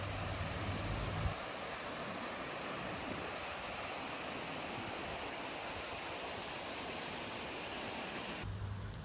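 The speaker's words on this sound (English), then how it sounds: "the first stop of the day is the waterfall Kacura" The Kacura waterfall on Sumba, Indonesia, roars with a dense, continuous rush of falling water, steady and full without pause or voices.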